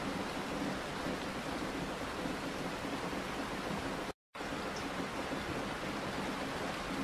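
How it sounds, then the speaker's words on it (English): Steady rain falls outside a van parked in a forest at night, a dense continuous hiss with no voices, broken only by a sudden brief silence partway through. "As the rain outside intensifies"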